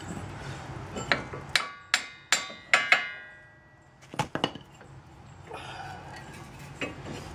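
A brass hammer taps the threaded end of a car axle on a 2001 Ford Escape, a quick run of five sharp ringing metallic strikes, then a short cluster of lighter knocks and faint clattering, close and moderately loud with no talk.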